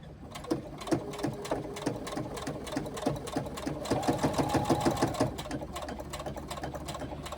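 Close and clear, a sewing machine with a standard foot stitches a cross inside a box on a vinyl pouch, needle thumping in a steady rhythm that quickens briefly before settling to a lighter hum.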